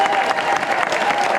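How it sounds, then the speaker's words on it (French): A theatre audience at a live show breaks into dense, loud applause, a continuous close wash of clapping hands with no gaps. "on va continuer ce spectacle sous un tonnerre d'applaudissements"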